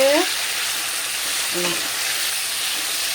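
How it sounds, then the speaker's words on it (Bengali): Mangoes sizzle steadily in a hot frying pan as they are stirred, a continuous close hiss with a brief scrape of the spoon partway through. "এই যে আমগুলোকে একটু নেড়ে দেব, নেড়ে দিয়ে"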